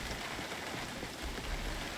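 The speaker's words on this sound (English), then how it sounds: "And we got some rain." Steady rain pouring in the video game Project Zomboid, a continuous even hiss of falling water with low rumble, constant in level throughout and heard alone without talk.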